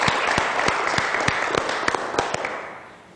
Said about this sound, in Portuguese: já recebendo os aplausos merecidos